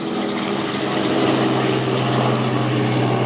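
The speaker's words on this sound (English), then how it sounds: "Police helicopter." A police helicopter's steady droning hum holds constant and fairly loud throughout, with rotor and engine noise filling the air.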